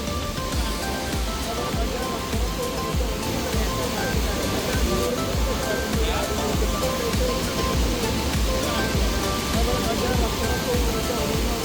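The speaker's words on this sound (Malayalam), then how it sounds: "ശക്തിയായി പതിച്ചെത്തുന്ന വെള്ളച്ചാട്ടത്തിന്റെ ശബ്ദവും വെട്ടിത്തിളങ്ങി പതിക്കുന്ന കാഴ്ചയും" A powerful monsoon waterfall at Amboli Ghat in Maharashtra crashes into a small gorge. Its dense, unbroken roar stays loud and close throughout, with no break in the rushing water.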